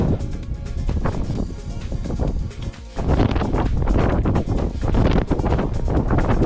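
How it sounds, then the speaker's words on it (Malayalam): Strong wind buffets the microphone on a rocky hilltop near Hampi's carved stone steps, roaring in loud, uneven gusts with a brief lull before surging again. "ശക്തമായ കാറ്റ്."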